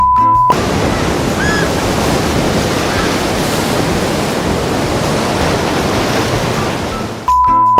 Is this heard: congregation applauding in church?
no